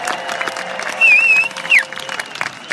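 Audience applause and cheering at a film screening event for a DJ, brief and fairly close, with scattered claps and a couple of whistles rising over the crowd.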